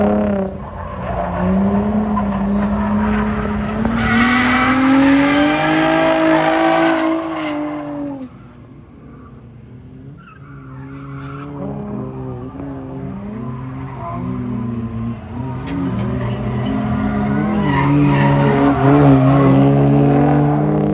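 A drift car on the Lebanon Valley track howls through high revs while its tires squeal in long skids, the engine pitch rising and falling loudly. The noise drops briefly mid-run, then builds back into sustained revving and skidding.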